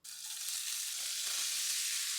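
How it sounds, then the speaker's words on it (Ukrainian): Smoked meats and brisket sizzling in a preheated pan over medium heat for a soup, a steady loud frying hiss that starts abruptly and continues without a break. "І смажу на середньому вогні до тих пір, поки грудинка не почне витоплюватися"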